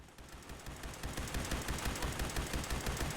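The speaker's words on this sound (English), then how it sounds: "Oh, the turret's hitting him too" Rapid automatic turret fire pounds away at super mutants in Fallout 76, a steady stream of sharp, evenly spaced gunshots that stays loud and close throughout with no talking.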